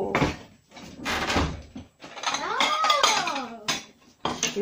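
Chocolate cake being served onto a plate: dishware and utensil clatter with clinks, scrapes and knocks close by, coming in short uneven bursts with brief pauses, and no talking.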